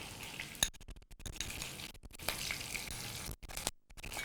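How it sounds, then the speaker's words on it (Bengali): Coconut paste hits a cumin and chili tempering in a pan for a Bengali vegetable chapor ghonto, giving a steady soft sizzle with a few clinks and scrapes, fairly quiet and without talk. "দেখুন আমাদের জিরা এবং মরিচ ফোড়ন চলে এসছে। এখন আমি এতে দেব নারকেল বাটা"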